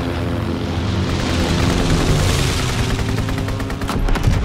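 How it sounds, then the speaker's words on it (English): A World War II–era recon aircraft drones loudly overhead in the Call of Duty WW2 video game, a steady propeller roar mixed with dense battlefield gunfire and crackle, with a sharp shot near the end. "Enemy counter recon aircraft observed."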